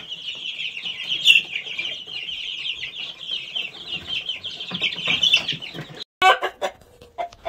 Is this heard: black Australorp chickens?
yes